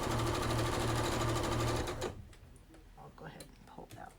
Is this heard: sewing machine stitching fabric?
yes